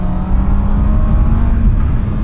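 Honda CB650R motorcycle engine running hard while riding, a loud, steady drone with a held tone and heavy rushing wind noise throughout, close and continuous with no talking.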